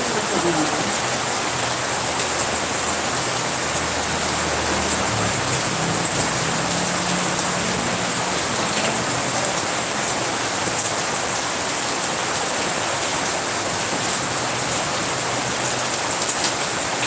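Steady, dense rain hisses continuously and evenly throughout, close by, with a faint low rumble underneath early on.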